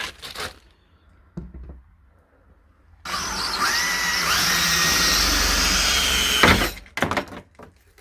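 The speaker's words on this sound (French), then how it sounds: "Allez, on perce la plaque." Power drill boring through an old car license plate during a full car paint job, a steady loud whine lasting about three and a half seconds between quieter handling knocks, with no talking.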